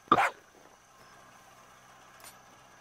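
In the video game Far Cry 6, a dog gives one sharp, close bark at the start, followed by a quiet background hum and a faint second sound near the end.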